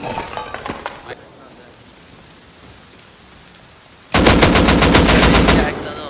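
AK rifle fire in the game Rust: a few faint scattered shots, a quiet stretch, then a loud close burst of rapid automatic fire lasting about a second and a half, with rain-like patter in the background.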